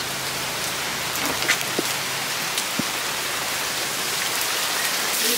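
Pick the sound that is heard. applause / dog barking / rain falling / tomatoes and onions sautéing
rain falling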